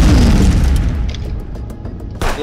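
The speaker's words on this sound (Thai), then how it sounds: "ระเบิด" A loud, close explosion in the police game Contraband Police, a deep booming blast that rumbles and fades over about two seconds before a short second burst.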